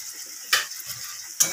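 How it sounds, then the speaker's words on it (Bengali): Boiled potatoes dropped into a frying pan with spinach, two sharp clattering impacts against the pan about a second apart over a faint background sizzle, close and clear, no voices. "সিদ্ধ করা আলু দিয়ে দিচ্ছি"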